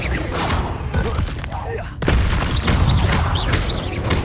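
A fire spell bursts out in the Hogwarts Legacy video game, a loud booming whoosh at about two seconds over a dense layer of game effects and music that run continuously around it.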